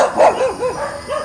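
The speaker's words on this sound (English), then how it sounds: "Lots of dogs." Neighborhood dogs on a morning walk up a main road toward the mountain let out several quick, fairly close barks and yips in an uneven rhythm, with no talking.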